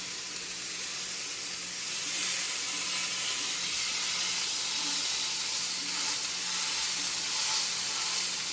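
Steaks sear in a frying pan with a loud, steady broadband sizzle and hiss that holds evenly throughout, close and continuous, with no talking over it.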